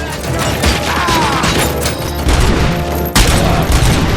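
Loud, sustained gunfire and bursts in Robocop Rogue City, a bank robbery shootout in the game, with rapid volleys, heavy impacts and a sharp blast near the end.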